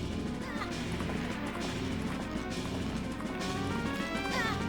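A horse gallops in the Majora's Mask video game, quick rhythmic hoofbeats running steadily over game music and ambience without pause.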